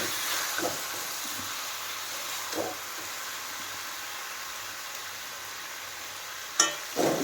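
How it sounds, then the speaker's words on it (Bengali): Meat being sautéed with spices in a pan of hot oil for a home-cooked curry, giving a steady close sizzle with a few brief scraping stirs and clinks. "দেখো মাংস কষানো হচ্ছে।"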